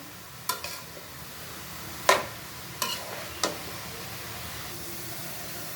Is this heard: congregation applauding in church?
no